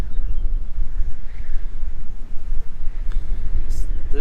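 Wind buffeting the microphone outdoors by beehives, a constant low rumbling roar that gusts unevenly through the whole stretch, with a voice talking under it.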